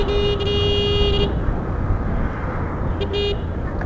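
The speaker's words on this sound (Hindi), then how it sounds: "मतलब आप जैसे हॉर्न दोगे तो हॉर्न में भी वाइब्रेशंस आने लग" Horn of a Bajaj Platina motorcycle riding fast on a highway, a buzzy harmonic honk held for over a second, then a shorter wavering blast, over loud steady wind and road rumble.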